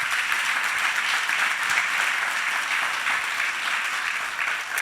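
Sustained applause from a church congregation during a morning service fills the space, even and fairly loud, the many hands blending into a continuous clatter.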